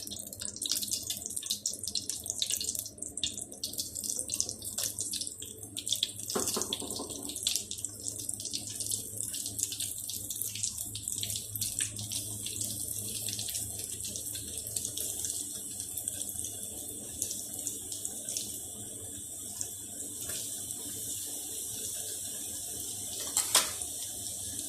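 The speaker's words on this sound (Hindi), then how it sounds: "देखिए पॉपकॉर्न बड़े अच्छे से फ्राई हो रहे हैं" Chicken popcorn fries in hot ghee in a pan, giving a continuous crackling sizzle that stays steady throughout, with occasional small pops and no talking.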